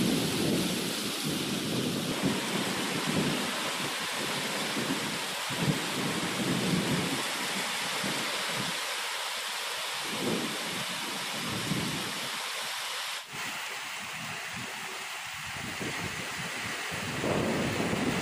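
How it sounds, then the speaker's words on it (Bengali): Heavy rain pours down steadily during an evening thunderstorm in West Bengal, with rolling thunder and gusts of wind. The downpour is dense and loud throughout, with no voices. "কি দারুণ বৃষ্টি, ঝড়।"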